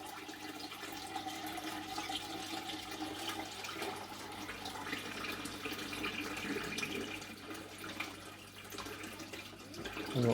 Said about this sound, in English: we're going to start getting some water out the bottom here